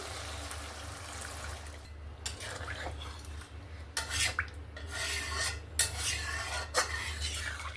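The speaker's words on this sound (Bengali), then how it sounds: "আবারও একবার ভালো করে নাড়াচাড়া করে নিলাম।" Prawn curry being stirred in a pan, repeated rasping scrapes of a spatula against the metal in uneven strokes over a low background hum, with a faint sizzle and no talk.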